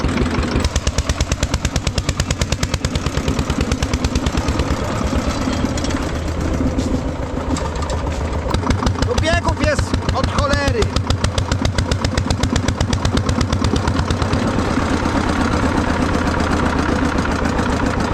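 A small 15-horsepower Andoria S-15 petrol engine chugs steadily with a rapid rhythmic putter, running continuously at close range, with a brief louder burst midway.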